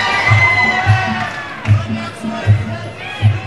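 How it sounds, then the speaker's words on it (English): Arena crowd at a kickboxing match cheering in steady swells, with periodic low thuds underneath and a broad roar of voices throughout. "The crowd's lapping it up"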